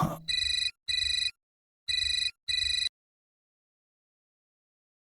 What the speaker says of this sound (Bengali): দাদা, ফোন বাজছে।